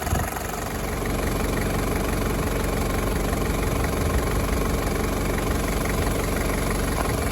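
Diesel engine idling nearby, a steady low knocking rumble with constant vibration and no talk.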